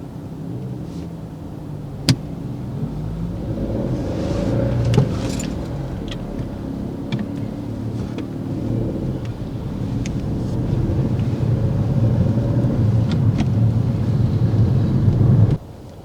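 Car engine idling and pulling away in road traffic during a driving test, a steady low rumble that swells gradually with a sharp click early on and a sudden stop at the end.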